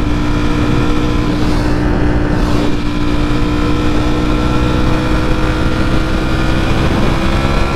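A loud motorcycle engine roars steadily throughout while riding, a constant dense drone with wind rush and no voices.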